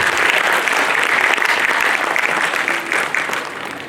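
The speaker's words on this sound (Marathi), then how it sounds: "त्यासाठी मला वाटतं तुमच्याकडून ह्या शिक्षकांना, ज्या सगळ्या टीचर्स आहेत त्यांना एक जोरदार तुमच्याकडून टाळ्या घ्यायला पाहिजे" A school audience at an annual social gathering applauds the teachers with loud, sustained, dense clapping from a full crowd that holds steady throughout.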